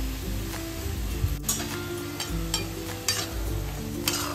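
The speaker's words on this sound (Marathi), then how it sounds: "आता ना हे सगळं व्यवस्थित मिक्स करून घ्यायचंय।" Fenugreek vegetable mixture frying in a pan while being stirred, a steady sizzle with repeated scraping strokes of the spoon at a close, even pace, no talking.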